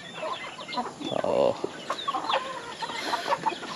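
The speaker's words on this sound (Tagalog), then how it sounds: "nandito yung mga nakakulong kong pabo" Several caged turkeys on a farm cluck and chatter nearby in a steady, busy jumble, with a brief voice at one point.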